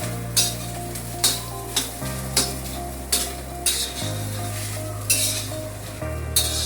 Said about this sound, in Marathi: असे हलवून घ्यायचं।